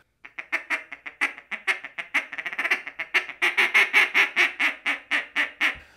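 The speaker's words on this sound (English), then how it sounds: "real sweet and seductive on the bottom that these styles of calls are known for." Double reed Louisiana-style Power Calls Vault duck call working a fast, choppy run of short quacks that builds into a steady, louder string of evenly paced calls, close up and alone.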